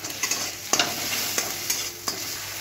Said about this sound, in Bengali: এবারে আমি ডিমটা ভালো করে ভেজে নিয়ে আর এর মধ্যে ডিমটা দিয়ে দিলাম